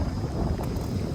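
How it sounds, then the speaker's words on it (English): Strong wind on a hike in Anton Valley, Panama, a loud, gusty rush battering the microphone for the whole moment, with no talk. "That's how windy it was."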